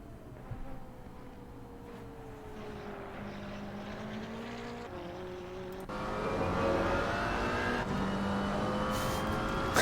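Race car engine of a McLaren GT4 at Zandvoort in a sim racing game, a steady engine drone whose pitch climbs and drops through gear changes, growing louder in the second half.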